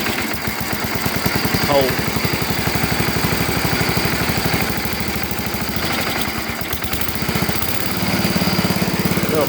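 Small Sears SS12 garden tractor engine running steadily at idle close by on a chilly day, a continuous throbbing drone with a person speaking briefly over it.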